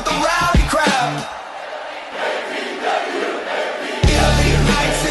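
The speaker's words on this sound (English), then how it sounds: "make a little noise with the rowdy crowd" A rowdy crowd at a pro wrestling show roars and yells throughout, with loud whoops and battle cries, a dip in the middle and a sharp surge of bellowing near the end.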